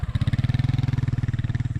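A small engine powering water pumping for a fish pond runs close by, its loud, steady low throb pulsing in a rapid, even rhythm throughout.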